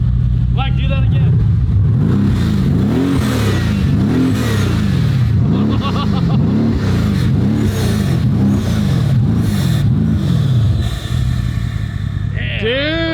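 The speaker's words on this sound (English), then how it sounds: "you can hear the turbos in the front" A built 1,200-horsepower AMG V8 with PTG twin turbos is revved again and again in a steady rhythm of loud, close surges, with turbo whine and brief talk layered over the roar.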